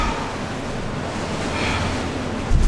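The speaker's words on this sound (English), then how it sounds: "Oh, it's so windy." Strong wind roaring across exposed coastal cliffs at an abandoned WW2 coastal battery, a steady broadband rush with a harder gust buffeting the microphone at the end, and no voices.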